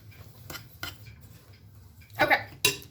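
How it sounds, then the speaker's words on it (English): Dry ingredients for a wild black raspberry crisp mixed in a baking dish: a few sharp clinks and scrapes of a utensil against the dish, sparse at first, then a louder rattling scrape and a final knock. "I just like to mix all the dry ingredients"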